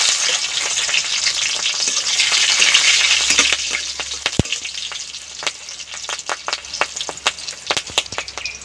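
Cumin seeds and slit green chillies tempering in hot ghee make a loud crackling sizzle that gradually eases, then breaks into sharp, scattered pops and spits toward the end.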